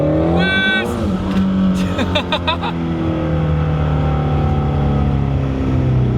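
A loud 850 hp twin-turbo Shelby GT350 engine revs hard and holds a steady roar, with a brief high screech of spinning tires near the start.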